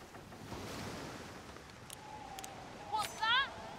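Ocean waves in the pirate game Skull & Bones roll as a broad, steady wash with wind, joined near the end by brief whistling game tones.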